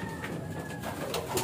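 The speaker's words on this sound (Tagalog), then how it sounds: "para mapatukan na natin itong mga kalapati natin at makapasok na sila" Pet pigeons coo softly in a short burst at moderate distance, with steady background hiss and no talking.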